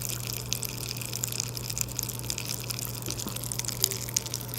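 Pop Rocks candy dissolving in liquid gives a faint, continuous crackle of tiny pops over a low steady hum.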